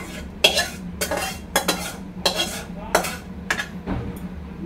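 Cooked food is poured and scraped from a pan onto a new clay plate, with about seven sharp clattering scrapes in an uneven rhythm, close and fairly loud, with no talk.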